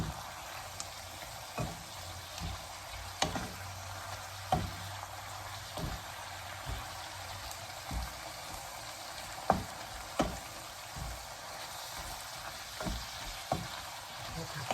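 Pork and cabbage stir-frying in a pan with soy sauce and oyster sauce, a steady close sizzle with periodic scrapes and clacks of the spatula stirring.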